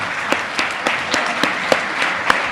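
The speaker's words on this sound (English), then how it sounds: "give a warm round of applause for Senator Margaret Rose Henry" An audience applauds Senator Margaret Rose Henry at the Metropolitan Wilmington Urban League's annual Lions and Legends honors event: loud, continuous applause with sharp individual claps popping out of the crowd sound.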